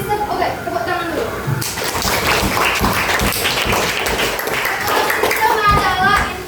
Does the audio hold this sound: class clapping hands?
yes